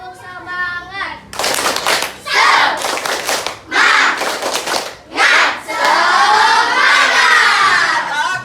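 Schoolchildren performing the 'tepuk semangat' spirit clap in class, loud rhythmic claps in grouped bursts with chanted voices, ending in a long sustained group shout.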